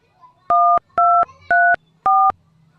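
Four loud dual-tone telephone keypad beeps, evenly spaced about half a second apart, over a quiet background.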